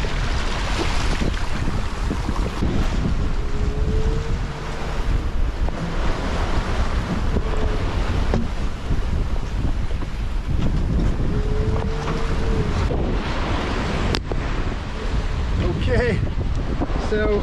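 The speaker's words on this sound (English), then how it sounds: "The wind has picked up to 25-27 knots now" Constant roaring wind at 25-27 knots buffets the microphone while waves rush and splash against a sailing boat between Vestmannaeyar and Reykjavik, Iceland, loud and unbroken throughout, with faint creaks now and then.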